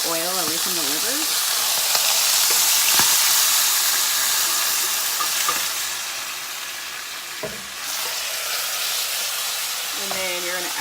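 Chicken livers fry in hot oil in a tilted skillet, giving a steady broadband sizzle with crackling and splattering pops that carry on throughout, with brief metallic scrapes and a faint voice near the start and end.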